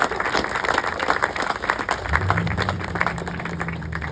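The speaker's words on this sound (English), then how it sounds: "I'd like a little round of applause for their efforts" Audience applause for school trustees at a Malden Catholic gathering, a steady wash of clapping throughout with a low murmur of voices joining toward the end.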